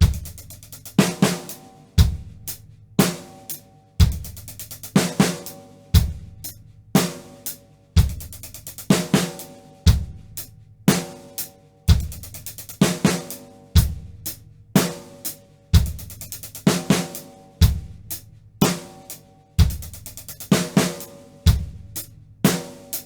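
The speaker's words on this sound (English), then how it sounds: "So we're going to play the 4 doubles on the hi-hat and then the 2 singles on the snare." A drum kit repeats a beat with a ten-stroke roll, doubles on the hi-hat followed by singles on the snare, with steady kick and snare hits recurring roughly every two seconds, played close and alone.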